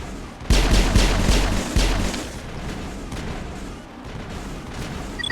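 Mass Effect battle on Virmire with coordinated gunfire crossfire: heavy booming shots hit in a rapid cluster, then give way to sustained, dense weapon fire and rumbling combat noise throughout.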